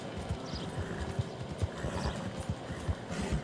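Horse hooves clip-clop at a steady trot in Red Dead Redemption 2, rhythmic and fairly close over a rushing outdoor ambience, with no clear whinny standing out.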